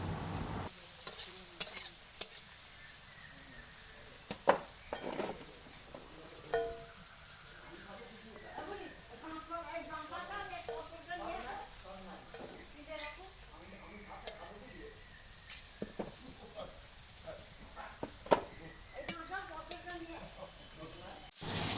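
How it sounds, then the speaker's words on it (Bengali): Potatoes frying in a pan on a home kitchen stove, with steady soft sizzling broken by scraping stirs and a few sharp clinks of the spatula, heard close up with nobody speaking. "এইদিকে প্রথমেই জেঠিমা আলু ভাজতে শুরু করে দিয়েছে।"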